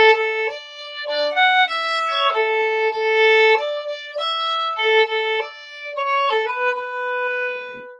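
A melodic excerpt of the major-key carol setting Brightest and Best is played on a clear, reedy wind instrument in legato phrases with short pauses, solo and close, with no voices.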